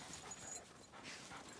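Dogs pant outdoors in Alaskan snow: faint, quick, breathy huffs with a soft whimpering edge, heard at a distance with no voices.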